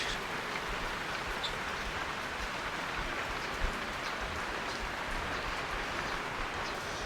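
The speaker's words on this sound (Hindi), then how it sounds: "आज पूरा दिन चलने वाली है बारिश" Heavy rain pours steadily outdoors in the mountains, a dense, even hiss with no breaks, and nobody speaking.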